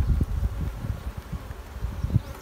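Honey bees buzz around hive frames in a low, steady drone with small flickers of wingbeats, close and continuous, with faint rustling behind them.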